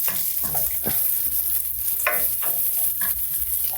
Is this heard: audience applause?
no